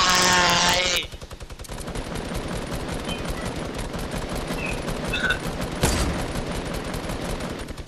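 Gunfire in a video game rattles out in rapid, loud bursts of shots that keep going for several seconds, with a sharper crack standing out near the end.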